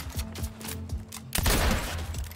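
Gunfire from a gun in the video game Fortnite: a rapid run of sharp shots, first spaced and then merging into a dense, louder burst of continuous fire.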